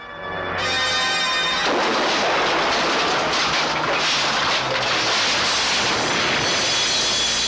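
A huge explosion in a Bollywood action movie erupts after a brief tonal lead-in, a loud, sustained roaring blast with rumbling debris that fills the whole stretch, no talk over it.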